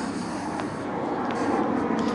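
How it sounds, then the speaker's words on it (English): A plane passing overhead near a London cable car, a faint, steady distant engine rumble running underneath ambient outdoor noise throughout. "There's a plane flying overhead,"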